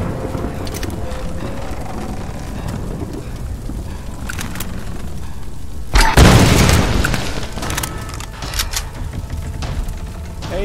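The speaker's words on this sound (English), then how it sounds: "try to use a grenade launcher." A grenade launcher blast in the Tomb Raider video game booms loudly midway, a heavy explosion over ongoing game noise and rumble, followed by scattered smaller pops and crackles.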